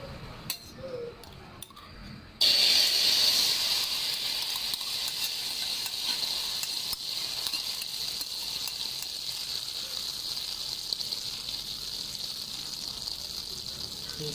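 A duck egg frying in a pan, a steady bright sizzle that starts abruptly after a couple of seconds of clinks and then holds evenly and close throughout.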